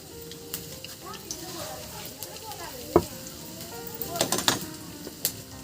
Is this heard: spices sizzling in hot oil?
yes